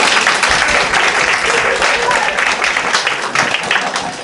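Audience and stage crew clapping after a Porthenys Players amateur pantomime performance of Aladdin, a dense, steady burst of applause lasting a few seconds, close and loud with some murmuring voices mixed in.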